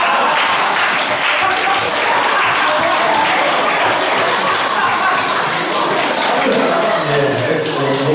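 Church congregation clapping steadily together, a loud dense wash of applause filling the room for several seconds, with voices and laughter mixed in.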